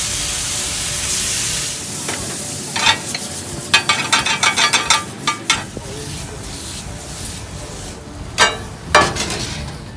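Shrimp sizzle loudly in a hot pan as white wine goes in, a steady hiss broken by repeated crackling bursts and scraping stirs, with no voices over it.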